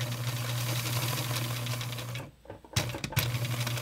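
A sewing machine back stitches a seam on a small doll's leaf bag, whirring steadily and close, then pausing abruptly before a few short bursts of stitching resume.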